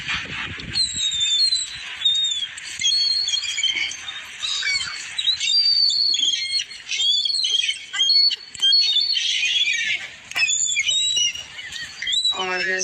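A flock of birds gathers to be fed on an island, squawking and squealing in a dense, continuous chorus of overlapping high calls, loud and close.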